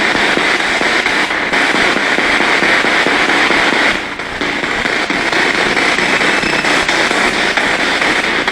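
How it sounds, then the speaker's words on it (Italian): Dense, continuous crackling bursts of gunfire roll on without pause for several seconds, loud and close with a brief dip midway and no voices. "Quelli che sento sono spari."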